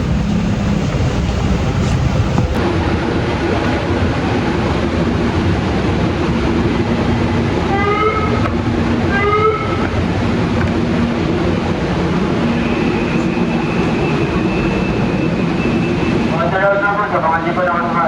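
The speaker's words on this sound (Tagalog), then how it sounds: "big train lang po." A big train passes in a city setting with a continuous loud rumble and rolling noise, while horn-like tones sound in the middle and again near the end.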